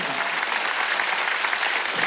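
A church congregation claps together in a dense, steady burst of applause that fills the room, loud and continuous, with a voice faintly under it.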